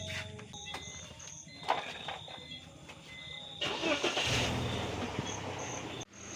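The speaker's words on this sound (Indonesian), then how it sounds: "Kita coba nyalain mobilnya." A BMW E46 car engine cranks briefly and catches, settling into a steady idle at close range after a few seconds of quiet handling noises.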